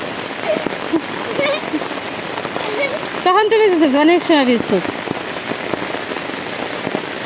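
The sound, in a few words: rain falling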